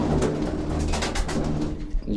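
Pigeons coo in low, throaty murmurs close by, over a steady background of rustling.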